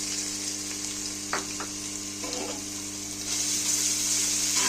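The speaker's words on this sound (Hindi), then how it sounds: "साथ ही कढ़ाई में मैंने तेल डाला है। इसमें मैं डालूँगी लहसुन अदरक। ये लहसुन अदरक का पेस्ट डालूँगी।" Garlic-ginger paste hits hot mustard oil in a wok with a loud, continuous sizzle that swells toward the end, with a few soft stirring scrapes in between.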